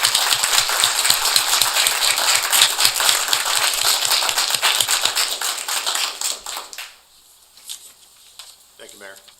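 Council meeting audience applauding fire department and police volunteers, dense rapid clapping for several seconds that fades out, followed by quiet room noise.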